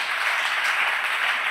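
A church congregation applauds in a steady, thick wash of clapping that holds at an even level from start to finish, with no speech.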